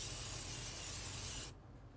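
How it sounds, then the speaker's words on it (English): A steady hiss of food coloring spray sprayed into a kitchen sink, one continuous burst about a second and a half long that cuts off sharply, close and alone with no talk. "I'll spray a little bit in my sink first."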